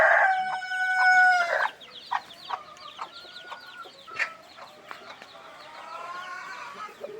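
A native bantam hen clucks near a fresh egg in a free-range flock, starting with a loud drawn-out call and then a string of short, close, rhythmic clucks, with a faint voice in the background.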